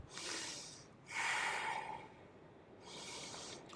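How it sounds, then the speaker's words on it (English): Three soft, close breaths are drawn in and out one after another while a plank pose is held in a beginner morning yoga routine. "Let's breathe in for 3 breaths here."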